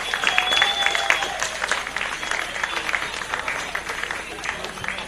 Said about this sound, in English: Let's do a round of applause to Christoph,